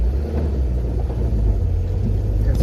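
A 1992 Peugeot 504 pick-up drives along a rugged dirt road, its engine giving a steady, heavy low rumble with constant road noise and no pauses throughout.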